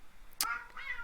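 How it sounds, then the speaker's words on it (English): Pet cats meowing indoors, one sharp, bright yowl followed moments later by a second, softer drawn-out meow against quiet room tone. "my cats are having a fit here"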